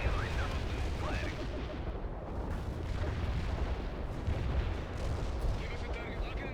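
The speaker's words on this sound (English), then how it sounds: "Firing solution ready. Artillery lined up. Firing." Artillery fire in the World in Conflict video game, a continuous barrage of rumbling booms and cracks, loud and dense, with radio-style voice chatter under it.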